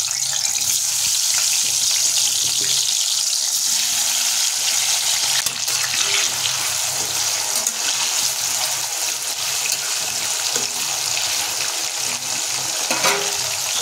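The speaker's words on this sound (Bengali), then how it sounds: "সমস্ত লবণ হলুদ মেখে রাখা আলুর টুকরোগুলো আমরা গরম তেলের উপরে যোগ করে দিলাম।" Potato pieces coated in salt and turmeric dropped into hot oil, a steady loud hiss and sizzle of frying that runs unbroken throughout.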